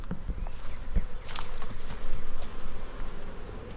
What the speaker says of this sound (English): There are a ton of bees hanging out on the front porch